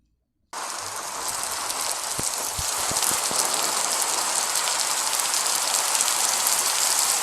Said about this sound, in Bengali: ততদিনে ফের বর্ষা পড়েছে।